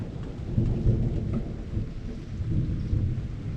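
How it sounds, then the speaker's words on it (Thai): Heavy thunder rolls through a steady rainstorm during the dry season, with deep rumbling swells and continuous rain hiss throughout. "ตอนนี้รู้สึกว่าฟ้าร้อง หนักมากตอนนี้"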